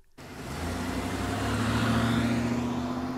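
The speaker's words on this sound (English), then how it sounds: "Then he and the man with the yellow hat got into the car to drive to the movie studio." A car engine starts up and pulls away, a steady rising motor hum with low tonal drone building after a brief silence, close and fairly loud with no talk.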